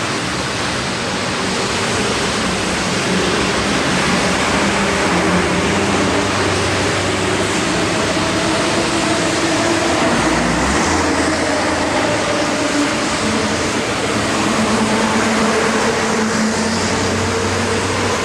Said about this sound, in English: This is the subway station I'm going into.